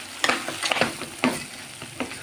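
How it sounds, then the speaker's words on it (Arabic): Rice and browned vermicelli being stirred in a pan with butter and oil, with a steady close sizzle broken by several scraping, shuffling strokes of the spoon. "حطيت معلقه زبده وحبه زيت، وحمرت الشعريه وحطيت فيها الرز، ونقلب"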